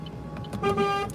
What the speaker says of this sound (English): you can hear Mark's train horns.